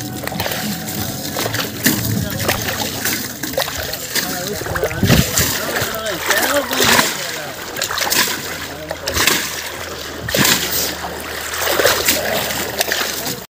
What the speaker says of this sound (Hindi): अपनी स्कूटी एकदम मस्त से धुल गई